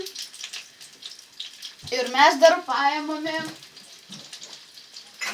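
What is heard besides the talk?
koldunai dumplings frying in a pan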